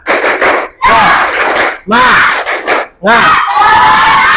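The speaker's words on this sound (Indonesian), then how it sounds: "sekali lagi, tepuk semangat." Classroom group doing the tepuk semangat clapping chant: three loud bursts of children clapping in rhythm and shouting together, separated by short pauses, close and energetic.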